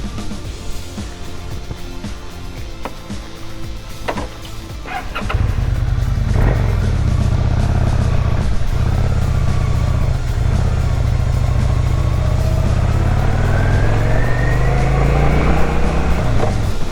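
A Kawasaki Vulcan 800 Classic Bobber motorcycle engine starts up and settles into a loud, deep, throbbing idle, with a brief rev rising toward the end, recorded up close.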